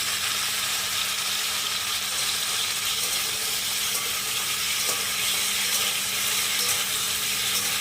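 Taro stems (gathi kochu) frying with a little salt in a pan, giving a steady, even sizzle with faint crackles throughout, no voices.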